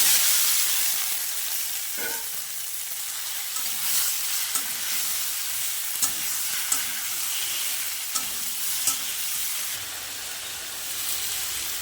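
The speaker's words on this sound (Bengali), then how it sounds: "এবার ফুলকপি আলুটা দিয়ে দেবো।" Cauliflower and potato pieces sizzle and fry in cooked spice masala, a steady hiss with occasional stirring clatters and small pops throughout, close and continuous with no talking.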